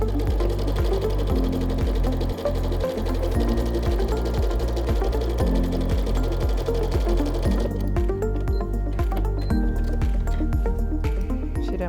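A sewing machine runs a zigzag stitch through felt and Felt Fit material, its rapid regular needle rhythm loud and continuous, easing into lighter stitching near the end.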